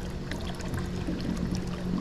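Muriatic acid is poured from a jug into a swimming pool, giving a faint, soft trickling and splashing of liquid into water that stays quiet and steady the whole time.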